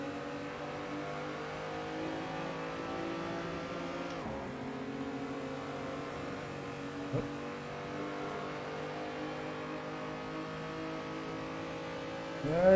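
Race car engine in a virtual racing game on the Assen circuit, a steady loud drone holding high revs throughout with a brief downshift dip near the middle and a short rise at the end.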